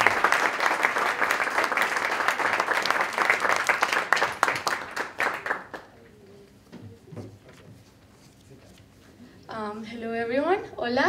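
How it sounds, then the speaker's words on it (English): An audience applauds a photography workshop presenter, loud brisk clapping for about six seconds that thins to a few last claps, then a voice begins speaking. "I would like to really have a big, big, big applause to Natalia Sierra"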